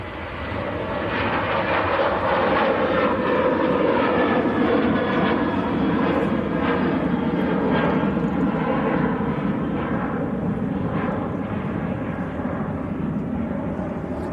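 An airplane departs from a Manchester Airport runway, producing a steady, loud, broadband jet roar that holds throughout at a moderate distance, with no talk.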